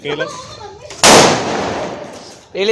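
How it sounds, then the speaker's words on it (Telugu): A chilli bomb firecracker bursting during Diwali, one sharp loud bang followed by a decaying rumble, with people talking just before and after. "భూపతి భూపతి బాక్స్ తీసుకో, అందులో కాల్చి ఉరుకు. మనకి ఉండే కదా చిల్లీ పంప్స్ పై"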